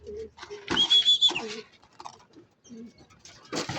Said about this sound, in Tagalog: dalawa na yung kalapati ko nandito